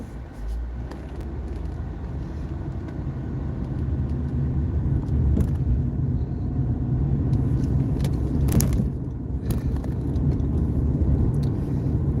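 A car driving through the Orange Mound neighborhood, a steady close road rumble and engine hum with tire noise throughout, no talk.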